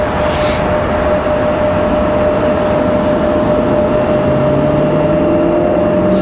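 A Republic Airways airliner arriving at Raleigh-Durham airport, its steady jet engine roar loud and constant throughout, with a sustained whine layered over the broad rumble.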